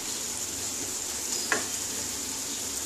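Green chilies frying in a pan of oil for a spicy Bengali Bata fish curry, a steady close hiss of sizzling throughout with one brief sharper crackle midway.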